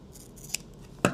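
Scissors snip off the extra fabric on a handmade sewn pen case, giving two quick, quiet cuts about half a second apart in an otherwise hushed room.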